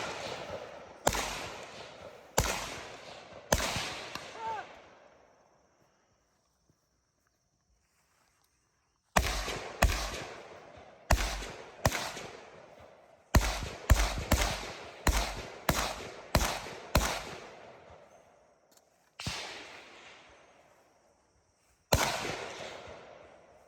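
Rifle shots at drop-mag targets during an outdoor 2-gun match, sharp loud cracks in irregular bursts, some fired in quick strings of several, separated by gaps and long pauses with faint movement.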